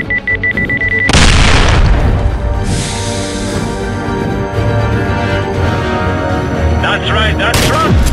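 A loud, close grenade blast erupts with a sharp crack and rolling rumble, followed by sustained battle noise, an alarm-like tone at the start and voices shouting nearby.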